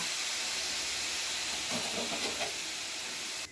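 Water poured into a pan of soybean and drumstick (sojne datha) chorchori sets off a steady, loud steamy hiss and sizzle that holds without a break to the end, with a brief bubbling patch midway and no talking.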